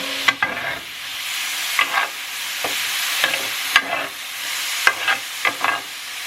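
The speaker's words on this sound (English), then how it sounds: "And you let that kind of like sizzle away a little bit." Food with white wine sizzles steadily in a frying pan, close and lively, punctuated by several sharp scrapes and taps of a utensil stirring.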